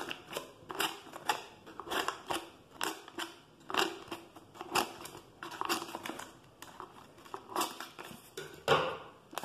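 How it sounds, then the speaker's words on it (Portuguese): Scissors snip repeatedly through the brim of a recycled scarecrow hat for a festa junina, about a dozen crisp, close cuts with a slight papery crunch, each followed by brief pauses, and no talking. "na aba do chapéu, olha. Vamos cortar aqui."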